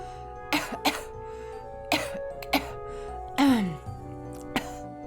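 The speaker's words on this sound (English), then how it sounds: "I hear coughing sounds. They sound like they're from a person that's in pain." Several harsh coughs and throat-clearing rasps from one person in a video game, spaced irregularly over a steady low hum, one longer strained cough trailing downward.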